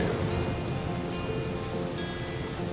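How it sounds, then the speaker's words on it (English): Steady rain pours in the survival game The Flame in the Flood, a dense, even hiss of falling drops that stays loud and unbroken throughout. "It is not going to stop raining before we hit that camp"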